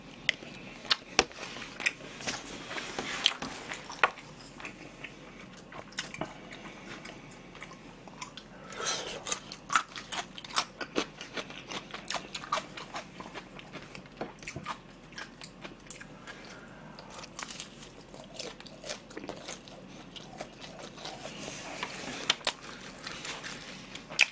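Someone eats charcoal-grilled seasoned fried chicken and boneless soy-garlic chicken, with close, crisp bites and crunchy chewing repeating irregularly throughout, moist squishy mouth sounds in between.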